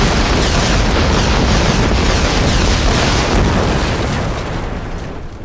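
A gunboat shell blows up a sniper tower in a Boom Beach game animation, a loud, close, rumbling blast that roars steadily and then slowly fades.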